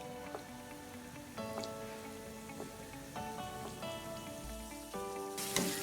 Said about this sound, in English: Just fry them until they are golden brown in color.